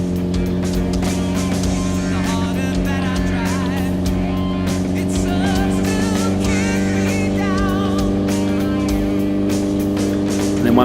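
A motorcycle engine on a dyno is held loud and close, rolling on from about 3000 RPM in a steady, throaty drone with a rising pitch throughout.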